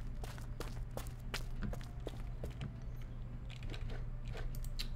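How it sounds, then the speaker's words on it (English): A character's footsteps in the medieval building game Medieval Engineers, a run of quick, crisp steps at close range over a low steady background hum, with no talking. "they made footsteps a whole lot louder"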